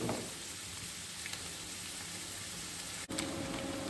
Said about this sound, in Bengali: কপিও তাই আমি লাল লাল ভাজবো। তাহলে এটা ভাজা হোক